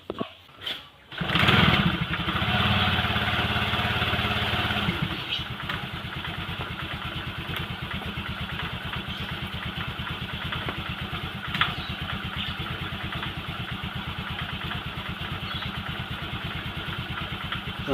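A Honda Vario scooter with a misfiring electrical fault starts up, revs briefly, then settles into a steady, close idle that putters on evenly.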